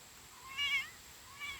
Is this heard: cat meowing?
yes